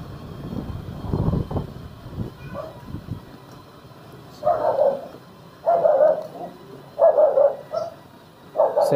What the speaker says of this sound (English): the dogs are just barking like crazy